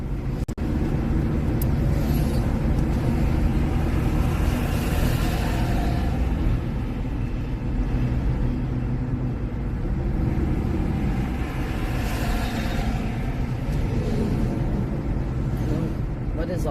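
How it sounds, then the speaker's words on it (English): Road traffic heard from inside a moving car on a long interstate drive, a continuous dense low rumble of engines and tires with faint passing swells, while people talk in the cabin. "What is all this traffic?"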